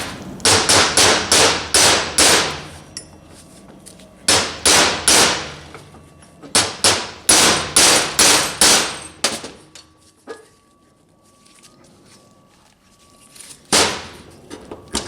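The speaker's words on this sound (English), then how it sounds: "I'll just set this on top of the bushing, drive it right there, and I'll see if I can cut that bushing right next to it" A hammer strikes a driver set on a 4R70 transmission bushing to cut it, sharp metallic blows landing close and loud in quick runs of several hits separated by brief pauses.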